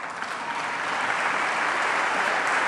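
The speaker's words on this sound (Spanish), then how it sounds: "No sé si van a aplaudir tanto ahora," Steady, dense applause from an audience at a political speech in Argentina, even and sustained throughout with no voices standing out.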